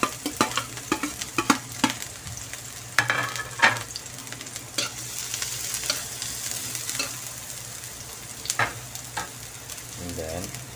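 Garlic and onion sautéing in a pan for a Filipino ginisang monggo with ground pork: a steady, close sizzle of frying runs throughout, punctuated by scraping stirs and clinks from a utensil against the pan, with no talking.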